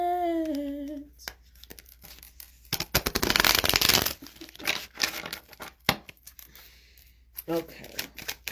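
Crisp riffling and flapping of playing cards in quick bursts, close by, with talk before and after the shuffle.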